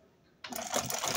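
A sewing machine stitching a fashion bag starts abruptly after a quiet moment, running with a steady, close, buzzing mechanical whir.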